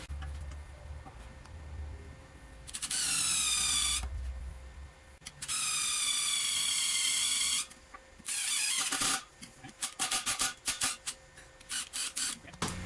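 High-pitched whine of a tap and drill bit combo cutting into metal, two long sustained bursts followed by a shorter one, then choppy intermittent grinding and clatter.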